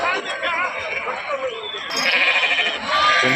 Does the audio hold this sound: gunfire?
no